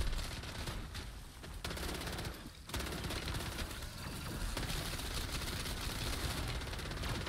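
WSP Stinger firing in MW3 Zombies, a continuous rapid stream of automatic gunfire, dense and steady with brief dips, recorded fairly faintly.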